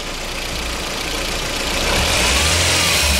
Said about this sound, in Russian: Но вроде бы двигатель работает нормально.